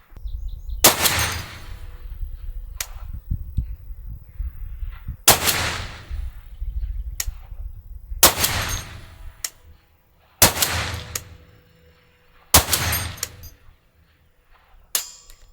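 Suppressed Barrett M107 .50-caliber rifle firing ball rounds at long range, five heavy booming shots spaced a few seconds apart, each loud and sharp with a short rumbling tail, faster near the end, no talking.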